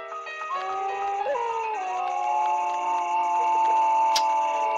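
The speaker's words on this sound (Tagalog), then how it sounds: "muli na naman ako nakarinig ng tunog ng aso" A dog's eerie, drawn-out howl or whine set in a horror story, a sustained wavering tone that slides in pitch over a steady ticking clock, alone with no voices.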